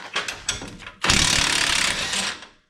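Socket ratchet working loose the rear shock bolts on a GMC Jimmy during a lift install, a few short clicking bursts followed by a loud, steady run of rapid ratchet clicks up close, with no talking.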